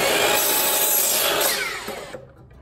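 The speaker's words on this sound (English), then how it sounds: "I'm gonna take these over to the saw and get them cut down." A saw cuts through 1x2 wood boards for closet shelves with a loud, close, continuous grinding rasp that fades and stops near the end, leaving quiet.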